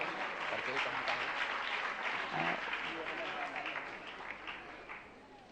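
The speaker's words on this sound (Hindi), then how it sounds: "इनके भी सम्मान में जोरदार तालियां।" Loud, dense applause from an audience at a Jain religious discourse gathering, honouring a student who ranked in a Shastri third-year exam; the clapping continues throughout and eases slightly toward the end.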